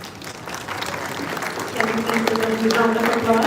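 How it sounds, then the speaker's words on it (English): An audience at a university leadership conference breaks into applause, the clapping building and swelling toward the end while a voice and some tonal sound run beneath it. "A round of applause."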